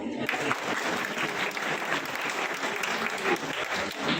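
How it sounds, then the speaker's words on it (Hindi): Audience at a stage play about the life of Guru Inder Din Suri breaking into applause, a lively, continuous clatter of many hands at moderate loudness, with faint voices mixed in. "एक बार ताली हो जाए।"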